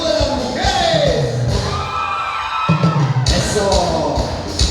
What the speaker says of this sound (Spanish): ¡Y el grito de las mujeres!